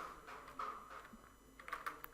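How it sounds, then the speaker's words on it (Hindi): Keys pressed on a computer keyboard, including the Windows key and space bar, in a quick faint series of light clicks heard alone. "विंडो का बटन प्रेस किया है एंड स्पेस बार का बटन प्रेस कर रहा हूँ तो इंग्लिश टाइपिंग स्टार्ट हो चुकी है"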